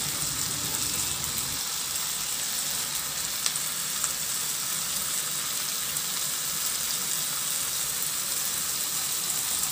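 Tomatoes sauté in a pan for a pork pata soup, making a steady hissing sizzle that runs evenly throughout, with only a couple of faint utensil ticks and no speech.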